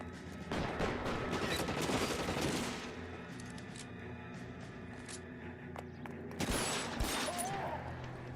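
Gunfire in the video game L.A. Noire: scattered shots and a volley of bursts, moderately loud, with a quieter stretch between the clusters of firing.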